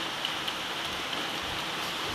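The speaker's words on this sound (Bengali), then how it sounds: "বৃষ্টি হচ্ছে, দেখতে পেয়েছে কিনা একটু জানাবে" Steady morning rain in Noakhali, heard from indoors through a window, gives a dense, even hiss of falling drops with no voices.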